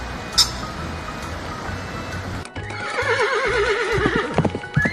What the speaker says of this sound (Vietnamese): Con ngựa.